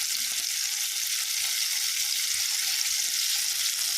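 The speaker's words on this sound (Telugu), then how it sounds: "బాగా ఫ్రై అవుతుంది." Chicken pieces fry in hot oil with a continuous, even hiss of sizzling, loud and close throughout with no voices.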